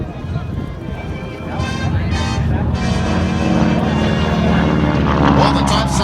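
A T-6 (AT-6/SNJ) warbird trainer plane at an air show passes overhead, its radial engine a loud steady drone that swells and holds, with someone talking over it.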